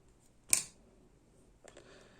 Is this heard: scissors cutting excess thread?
yes